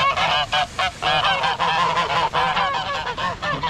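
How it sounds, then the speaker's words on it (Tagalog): Loud, overlapping goose honks in rapid, repeated bursts, several birds calling close by with hardly a pause. "Yung mga gansa."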